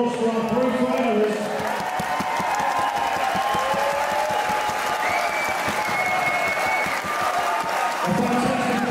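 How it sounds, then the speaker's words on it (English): Sustained applause from a large audience, steady and dense throughout, with a few cheers mixed in near the end. "One more round of applause for our three finalists."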